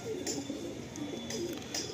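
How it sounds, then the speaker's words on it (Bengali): Black Madrasi pigeons coo softly and repeatedly close by, with low throaty calls recurring every half second or so over a quiet room hum. "চলুন এবার আমরা একের পর এক কালো পায়রাগুলো আপনাদের শখ করতে থাকি"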